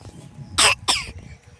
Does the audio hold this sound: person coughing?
yes